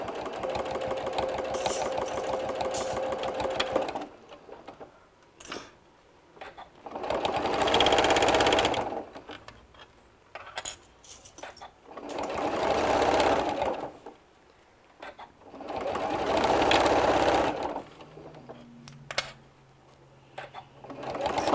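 A sewing machine top-stitches down the mesh edge of a hanging travel laundry bag, whirring in several steady runs of a few seconds each with quiet pauses between, close and clear.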